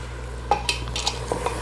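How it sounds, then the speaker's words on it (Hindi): Large chunks of bottle gourd being stirred into spicy masala in a pan, with a soft sizzle under a few light scrapes and clinks of a spoon, close up. "अब हम इसमें अपना लौकी का पीस डालेंगे"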